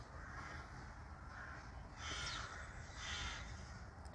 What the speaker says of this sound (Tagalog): Ang daming mga ibon doon sa puno, oh.